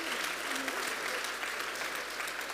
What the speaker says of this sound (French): Vous pouvez l'applaudir une dernière fois.